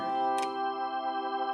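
Nord Stage 3 organ playing through a Leslie cabinet with the horn spinning fast: a steady sustained chord with a quick wavering shimmer, close and moderately loud, plus a brief bright click near the start.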